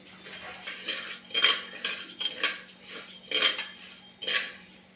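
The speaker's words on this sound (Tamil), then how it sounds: "அந்த அரிசி எடுத்து கடாயில் போட்டு வறுத்து எடுத்துக்கலாங்க" Black kavuni rice being roasted dry in a metal kadai, heard as a steady stir with repeated scraping and clinking strokes of a spoon against the pan, fairly loud and close, with no talk.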